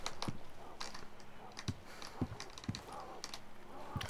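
Irregular keyboard clicks and taps from a computer keyboard during an online DayZ game session, scattered sharp keystrokes over faint background noise with no talking.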